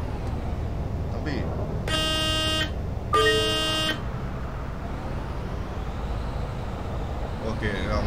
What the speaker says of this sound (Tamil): அவங்க வந்து தனியாக இருந்ததுனால ஹார்ன் அடிச்சோட கிளம்பிட்டாங்க